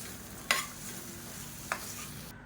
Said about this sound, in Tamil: அதை சூட்டிலே இதையும் போட்டு பரட்டி விட்டுக்கலாம்.